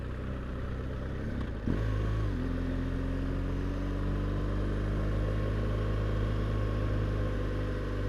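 A 2016 BMW R1200GS motorcycle with gear shift assist runs loud and steady on a ride, its engine drone shifting pitch as it moves up through the gears, with a brief clatter early on and no talking.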